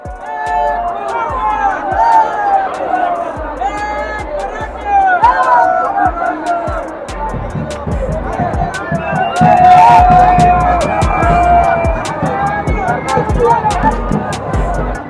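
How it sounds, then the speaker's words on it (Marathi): A large crowd of Maratha reservation protesters in south Mumbai chants slogans loudly and continuously, many voices merging into a roaring, rhythmic din with shouting throughout. "दक्षिण मुंबईचा परिसर एक मराठा लाख मराठाच्या घोषणेने दणाणून गेला"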